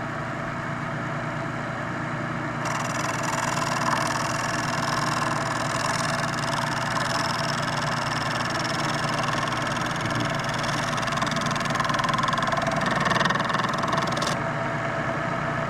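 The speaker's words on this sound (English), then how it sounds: "this is Michelle's first lesson on the wood lathe" A wood lathe runs in a remote off-grid Alaska bush setting, giving a steady, droning motor hum with a faint rising whine that holds for the whole stretch.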